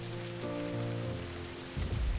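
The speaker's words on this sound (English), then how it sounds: "It's raining, but just right here." Steady rain pours in the video game Mind: Path to Thalamus, a dense even hiss of falling water over low droning tones, with a deeper rumble swelling near the end.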